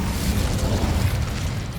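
A fire spell cast in the Hogwarts Legacy video game gives a dense, continuous rushing whoosh of flames with crackling bursts, loud and close, holding steady throughout.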